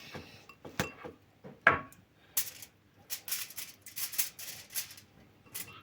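Aluminium foil crinkling and rustling as pork stuffed with garlic and prunes is wrapped tightly, in irregular close-up bursts of crackle with short pauses between folds.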